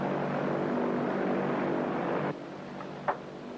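A propeller airplane engine drones steadily in flight, a dense, even roar that suddenly drops to a quieter hum partway through, followed by a brief click, with no voices.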